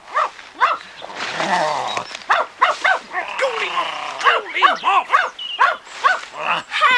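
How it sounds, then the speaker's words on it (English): A dog barks excitedly in quick, repeated yaps and yelps, fairly close, mixed with vocal sounds that may partly be a voice. "Scamper ran to a hummock and started barking violently."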